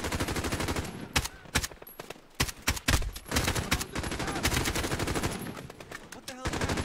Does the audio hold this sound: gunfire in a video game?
yes